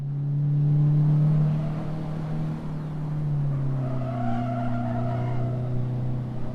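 Race car on a road course in a NASA event at Roebling Road, its tires skidding and sliding out under hard braking, with a steady loud engine drone and a sustained screech mid-clip, no talking.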